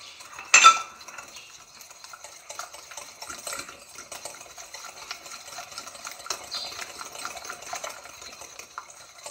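Semolina cake batter is mixed by hand in a bowl, with one sharp clatter at the start and then soft, uneven scraping and squelching that stay faint and close. No one speaks.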